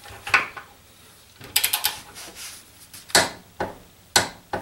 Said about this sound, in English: we are going to put 50 foot-pounds of force on that bolt